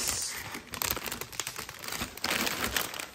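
Close, crisp crinkling of a plastic bag, irregular bursts of rustling as it is handled, with no voices.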